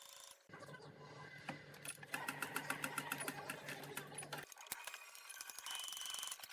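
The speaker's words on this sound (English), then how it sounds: "now we are going to sew the sides" A sewing machine stitches the side seam of a dress shirt, running in a steady, fast mechanical whir for about four seconds before stopping, with a few quieter handling noises after.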